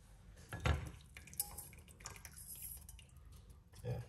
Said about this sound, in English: pour it out. We have to run it through the strainer.